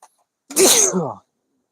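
A single sharp sneeze, close and loud, lasting under a second, followed by silence.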